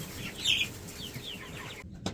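Chickens in a backyard flock give a few soft clucks and squawks over low rustling, close by, ending with a short sharp knock.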